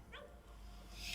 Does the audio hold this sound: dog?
yes